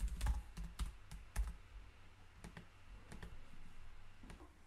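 Quiet keystrokes clatter on a computer keyboard in irregular bursts, a few sharper clicks standing out over a steady low hum, with no talking.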